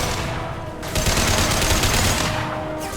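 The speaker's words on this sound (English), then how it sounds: "Firing an impact shot." Impact shot gunfire during a firefight in the video game Mass Effect 2: loud, dense, sustained crackling fire filling the whole short stretch, briefly dipping near the start before surging again.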